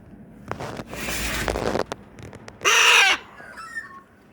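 Magpie giving harsh, raspy calls in short bursts close by, one louder chattering call standing out near the middle, with light rustling between them.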